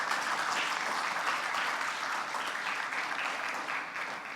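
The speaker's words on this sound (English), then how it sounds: "Let's give him a round of applause." An audience at a university forum on urban planning claps in sustained, dense applause that holds steady for several seconds before easing slightly.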